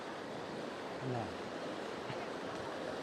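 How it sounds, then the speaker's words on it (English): High, fast-flowing water on the North Fork American River makes a steady, loud broadband rush throughout, with a brief voice rising faintly over the roar. "The water's flowing really high right now."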